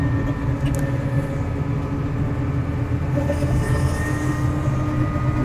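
Large XCMG mining loader at a Morowali mine engine droning heavily as it accelerates and maneuvers, a steady close diesel rumble with slight rises in revs.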